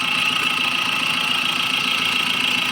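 A 2007 Mahindra Scorpio with an injector diesel engine runs steadily with a dense mid-pitched drone and faint knocking texture, close and continuous throughout without any talk.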